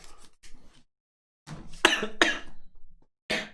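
A man coughing several times indoors, a short cough, a pause, then a cluster of harsh, loud, close hacking coughs and one more at the end.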